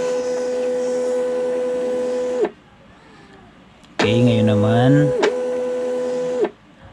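A small Bluetooth thermal waybill printer whirs in two steady mechanical bursts separated by a pause, with a person talking briefly between them.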